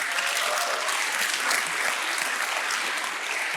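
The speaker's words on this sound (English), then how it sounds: "Let's give another round of applause." Steady audience applause at a public talk on mathematics and infinity, dense even clapping from a large crowd held at a constant level throughout with no speech over it.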